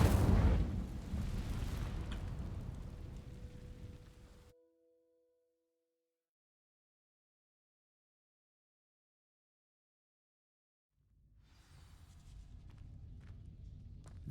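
An Incendio fire spell in Hogwarts Legacy igniting dry vines: a loud fiery burst that roars and fades over about four seconds, followed by a long silence before a low rumble returns.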